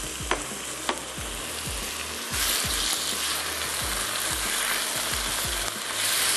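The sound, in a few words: tomatoes sautéing in a pan for beef sauce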